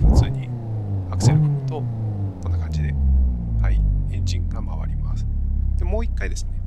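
A car engine in the racing game Assetto Corsa cranks, catches and settles into a steady idle, with someone speaking over the low rumble.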